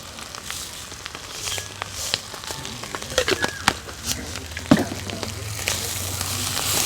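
Mustard seeds fry in oil for a Sri Lankan village-style goat blood dish, giving a steady close sizzle sprinkled with small pops and crackles, with a low steady hum beneath.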